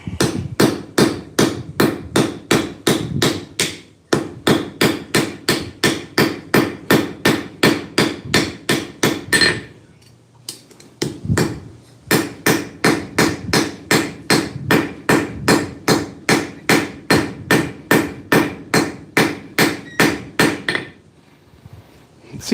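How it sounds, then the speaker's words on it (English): A hammer strikes metal in rapid, evenly spaced blows while cold peening a piece in place at a blacksmith's forge, in two long bursts separated by a short pause, loud and close. "And now we're going to cold peen it in place."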